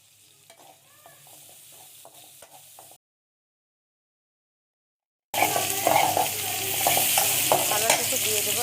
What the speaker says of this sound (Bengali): তেল হালকা গরম হয়ে আসলে দিয়ে দেবো পেঁয়াজ কুচি ও কাঁচামরিচ কুচি এবার একটু নাড়িয়ে চাড়িয়ে হালকা ভেজে নিয়ে